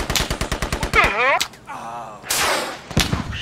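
Artillery fire in the military shooter Squad, loud and close, opening with a rapid train of evenly spaced heavy thumps, then a booming blast with a rolling tail and another sharp report near the end.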